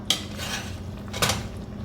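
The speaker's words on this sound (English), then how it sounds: "I'm just going to go ahead and add it to our pot" Eight ounces of boiled pasta go into a pot of Tuscan chicken sauce with two sharp metallic clatters of a utensil against the pot over a low background.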